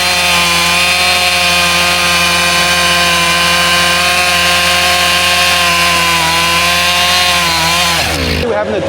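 A chainsaw cuts logs beside a firewood pile, its engine roaring loud and close at a steady high pitch for several seconds before dropping off sharply at the end.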